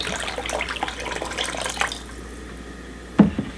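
Water pours into a cooking pot of mutton and oat porridge, a light splashing trickle up front that fades out, followed by a short, sharp clink of metal near the end.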